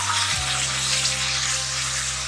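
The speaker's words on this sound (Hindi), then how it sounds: "इसको अच्छी तरह भूनेंगे" Ground tomato paste made from two tomatoes fries in a hot pan, giving a steady, loud, hissing sizzle throughout with a low hum in the background and no talking.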